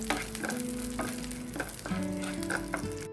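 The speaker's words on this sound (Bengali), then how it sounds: "এখন আমি এর মধ্যে দিয়ে দিচ্ছি কাঠবাদাম কুচি আর কিশমিশ। এখন একটু হালকা ভেজে নিচ্ছি।" Chopped almonds and raisins fry in hot ghee, a close, busy sizzle with crackles and scraping stirs running throughout, no voices.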